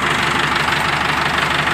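A 7515 model tractor engine idling, a steady low knocking diesel throb heard up close and loud with no talk over it.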